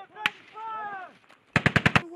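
Marine Corps training exercise with a single shot, then a shouted voice, then a rapid burst of about six loud rifle shots close by.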